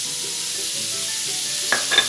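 Butter sizzling in a frying pan while Brazilian farofa with cassava flour is started, a steady close hiss with a couple of brief clinks near the end.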